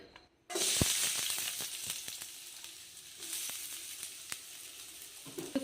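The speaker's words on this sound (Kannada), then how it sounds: "ಫ್ರೈ ಮಾಡ್ಕೋಣ." Chopped onions sizzle in two spoons of hot oil in a pan for a masala sandwich filling, a loud steady frying hiss that starts abruptly and continues with small crackles and pops throughout.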